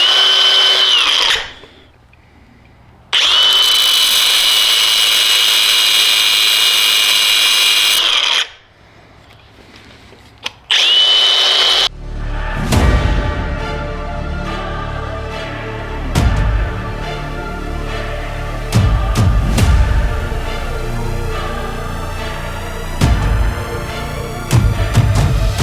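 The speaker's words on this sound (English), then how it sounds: "I want to use a side grinder, cut this thing off" Side grinder cutting through a metal part on a 1995 Honda FourTrax 200 ATV: two long, loud, steady bursts of high whine separated by quiet, then a short burst, followed by clanking, rattling handling of parts.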